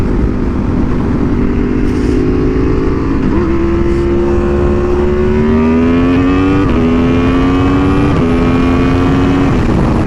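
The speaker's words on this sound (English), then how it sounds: "it's a freaking drag car with a parachute" A drag car fitted with a parachute and wheelie bar roars close and loud, its engine note climbing in pitch through several revving steps as it accelerates over a continuous mechanical rumble.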